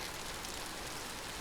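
Steady rain in the Vintage Story video game, a dense even hiss of falling drops throughout the brief moment, fairly quiet and with no talk.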